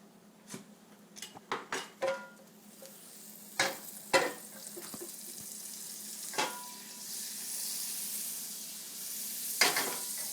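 Toast warming in a separate buttered pan beside an omelet, with a quick cluster of clinks and scrapes early, a steady low sizzle building underneath, then a single sharp knock near the end.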